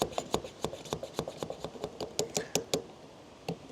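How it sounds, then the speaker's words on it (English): Hand pump on a Maectech 4-inch suction cup camera mount being pumped repeatedly, giving a quick run of close, sharp mechanical clicks and squeaks in a steady rhythm that stops, then one last click. "You need to push down firmly, and then you need to start pumping at the side here."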